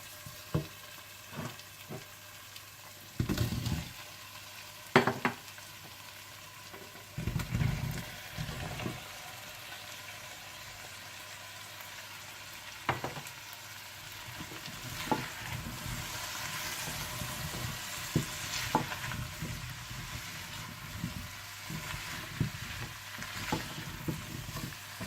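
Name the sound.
potatoes and cauliflower frying with tomato masala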